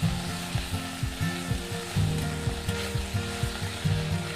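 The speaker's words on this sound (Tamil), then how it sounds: "இது ஒரு 2 நிமிஷம் வதங்கினா போதும், சீக்கிரம் வதங்கிடும்" Mint leaves sautéing in a pan for chutney, a steady frying sizzle with rhythmic scraping strokes of a spatula repeating throughout, close up and with no voices.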